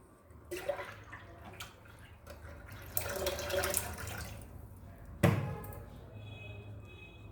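Water sloshes and splashes in bursts as butter churned from milk cream is swished and rinsed by hand until the water runs clear, with one louder thunk near the end.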